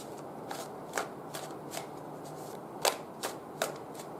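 Tarot cards are shuffled by hand in a series of crisp riffling bursts, about eight quick flutters at irregular intervals, close and fairly quiet against a soft room background.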